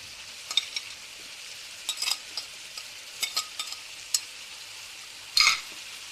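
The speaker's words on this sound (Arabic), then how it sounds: "هلا بنضيف البصل والفلفل" Chicken with onions and peppers is stirred in a frying pan, a faint low sizzle broken by sparse scrapes and clinks of a utensil against the pan, close and quiet.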